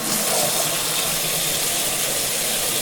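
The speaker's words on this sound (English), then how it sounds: "And as you thought, water faucet." Running water from a faucet in a sound effect recording: a steady, dense gushing hiss with no break, close and even in level, and nobody talking.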